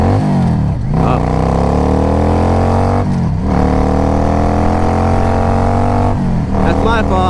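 A 2005 Yamaha V Star 650 motorcycle engine drones loud and close while riding, revving up through rising pitch, dropping off at each shift, then climbing again in three pulls under wind noise.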